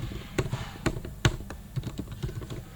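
Keys tapped on a computer keyboard while typing out a word, a quick run of close, crisp clicks with uneven spacing and a few harder strokes, no talk over them.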